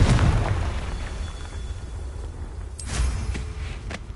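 A Confringo blasting spell exploding in Hogwarts Legacy, one heavy low boom at the start that rumbles away, followed by fainter sharp cracks and bursts a few seconds later.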